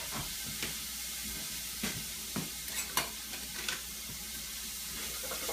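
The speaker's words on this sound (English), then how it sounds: "I'll brown up this onion in those bits that are down in there." Chopped onion browning in olive oil in a pan, a continuous soft sizzle with occasional stirring scrapes and small clicks.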